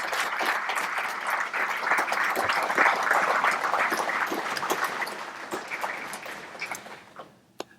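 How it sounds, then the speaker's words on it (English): Sustained applause from a crowd at an ROTC ceremony, a dense steady clatter of many hands clapping that holds for several seconds before thinning out and fading, with one last stray clap at the end. "Let's give a round of applause"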